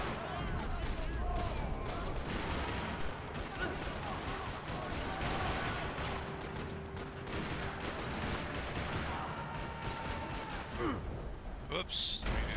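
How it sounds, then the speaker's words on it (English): Continuous gunfire crackles through a busy Max Payne 3 soundscape in a parking lot, rapid shots layered with a voice talking over the action. "Another parking lot rattling with gunfire."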